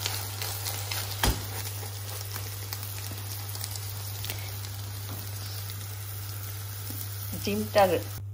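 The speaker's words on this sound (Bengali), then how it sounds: "সুন্দরভাবে ডিম দিয়ে মিক্স করে যদি ডিম ভাজা যায়, ডিমটা অনেক সুন্দর হয়" An egg fries in a pan with a steady, close crackling sizzle, broken by a sharp utensil knock early on and a few scraping clatters near the end.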